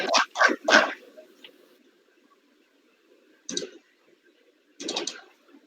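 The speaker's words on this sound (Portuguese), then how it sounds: "Tem um cachorro latindo." A small dog yaps three quick times, then barks again twice after a pause, each burst short and sharp over a quiet background.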